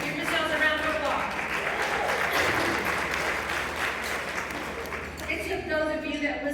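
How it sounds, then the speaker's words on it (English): An audience at a Women's Council of REALTORS winter meeting luncheon claps steadily and fairly loudly for several seconds, a dense, even wash of applause that thins slightly near the end. "Give yourselves a round of applause."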